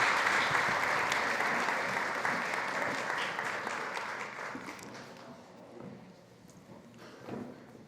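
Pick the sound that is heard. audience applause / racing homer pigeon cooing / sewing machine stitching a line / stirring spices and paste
audience applause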